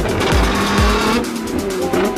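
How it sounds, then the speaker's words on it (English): Sports cars in a crowded Dubai parking lot rev hard and close by, with loud surging engine roars and exhaust bursts that rise and fall twice before settling into a rumbling drone. "There's cars over there getting revved,"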